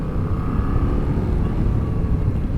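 Engine of a 2021 Yamaha Tracer 7 motorcycle braking in second gear, a steady close rumbling drone with a faint whine running continuously under riding noise.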